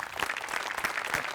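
Audience applause at a live comedy stage show, a steady wash of many hands clapping together, fairly close and even for a brief stretch.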